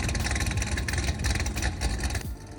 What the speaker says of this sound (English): It sounds like an NA427. It's the LS7.